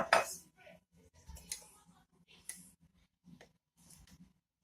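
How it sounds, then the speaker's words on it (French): A utensil stirs baker's yeast into warm milk in a bowl, making a series of light scraping clinks and taps in short irregular bursts, close and fairly quiet. "On va bien mélanger"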